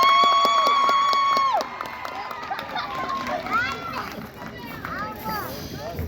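A campground crowd at a campfire sing-along cheers and shouts together, a loud sustained whoop at first, then a busy mix of excited voices and calls.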